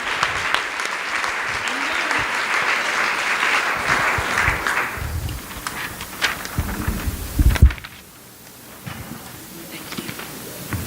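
Loud audience applause at an opening session of a fall meeting, dense and steady for several seconds before thinning into scattered claps and a few voices, then cutting out abruptly.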